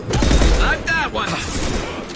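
Video game gunfire from Mass Effect 2: a dense burst of rapid shots and booming impacts fills the start, then thins into scattered blasts under ongoing combat noise, with a voice heard briefly.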